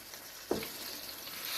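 Oxtails browning in a hot pan for braising give off a soft, steady sizzle, broken by one sharp scrape or turn near the start, quiet and close, with no talking.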